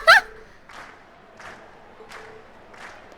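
Scattered bursts of crowd clapping in Trails of Cold Steel repeat at a steady interval with a sharp shout at the start, thin and looped-sounding.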